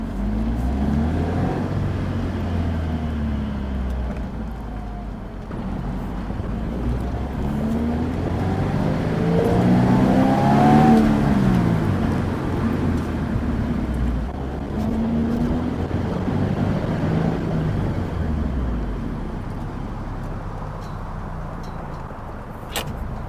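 A Toyota GR86 with its stock exhaust drives laps, the engine a low, fairly quiet drone that swells and fades as the car passes near and pulls away, with no talking.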